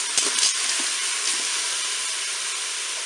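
Chicken pieces dusted with turmeric stirred in a Cookeo pot, a steady sizzling fry hiss with a few soft scrapes of a utensil near the start, close and continuous.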